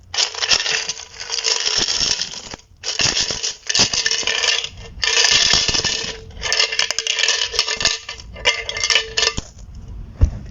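Coins pour from an opened piggy bank, a loud, dense metallic jingle and clatter close by in several bursts with short pauses between, and no talk.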